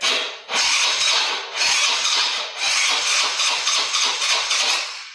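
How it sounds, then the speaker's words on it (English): A four-wheeler ATV with its choke on and a dead battery cranks slowly, its starter churning in loud, labored, rhythmic pulses about once a second without catching. No one speaks. "As you can probably hear, the battery sounds dead."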